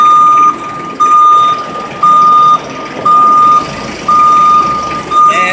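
Steady reversing alarm from construction equipment backing up, a loud, piercing tone pulsing in regular half-second beeps about once per second, over the low rumble of an idling engine.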